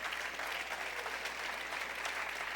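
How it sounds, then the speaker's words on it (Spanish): Church congregation applauding during a sermon, a dense, steady patter of many hands clapping at moderate loudness with no pause across the short stretch. "Dale un aplauso al Señor"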